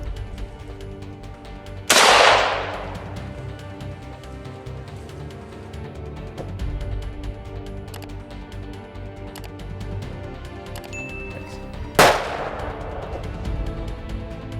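An M24 rifle fires during a bobcat hunt: two loud, close shots about ten seconds apart, each trailing off in a rolling outdoor echo over quiet background ambience.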